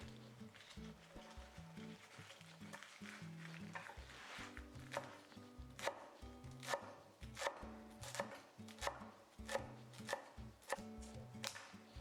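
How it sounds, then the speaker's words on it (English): A knife chops Thai basil finely on a board, a quick run of close rhythmic taps that grows steadier and louder, clearly audible against the quiet background. "I also bought Thai basil, which I wanted to try here, and I chop it finely."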